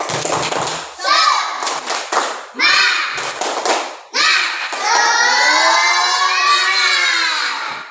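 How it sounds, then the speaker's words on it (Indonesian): Classroom of children doing the tepuk semangat clapping chant, rhythmic bursts of claps and thumps mixed with loud shouted chanting voices, ending in a long sustained group shout. "sebelum belajar kita tepuk semangat ya. Tepuk semangat."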